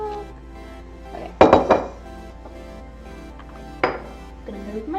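A metal strainer and a jar handled in a kitchen, giving a few sharp clanks and clinks, close and loud, with quiet gaps between them.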